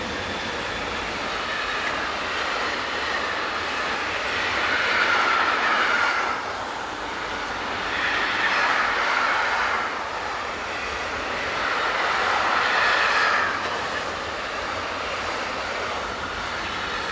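Swiss freight locomotives 186901 and 906 haul an intermodal train south through Dottikon-Dintikon station, a steady loud rumble of wagons rolling past with swelling waves of wheel noise and faint squeal, no voices.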